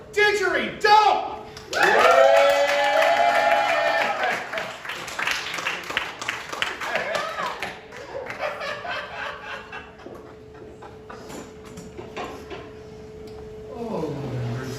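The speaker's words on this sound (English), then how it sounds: "Give up giant round of applause for Didgeridoo!" A crowd at a live comedy show cheers and claps as performers are called up, with whoops and laughter mixed into a burst of applause that fades into scattered claps, talk and chuckles.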